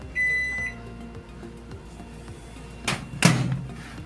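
A Panasonic microwave oven finishes cooking, first a short beep, then a pause, then the door clicks open with a couple of close thumps and clatters, no talking.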